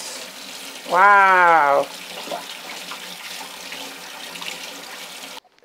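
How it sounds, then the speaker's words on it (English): Running tap water while washing hands in a home kitchen before baking chocolate chip cookies, a steady close wash of water throughout, with a brief high exclaiming voice near the start. "The first step of cooking anything is to wash your hands."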